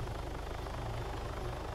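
A helicopter in the Arma 3 Altis Life game drones with a steady low rotor thump and engine hum, constant and fairly faint, with no voices over it.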